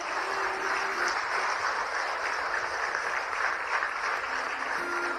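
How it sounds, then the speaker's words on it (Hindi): An audience at an event about Madhya Pradesh applauds before a lamp-lighting ceremony, with steady, even clapping throughout at moderate volume and faint tonal sounds underneath. "एक जोरदार तालियां हो जाए"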